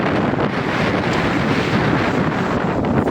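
Strong wind and Atlantic Ocean waves make a loud, steady roar that buffets the microphone without a break, with no voices heard.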